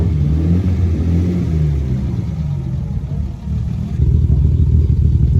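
A BMW E30 with an 318 body and a 320 engine idles and revs nearby, a loud, steady low rumble with a brief dip before the engine note swells back up.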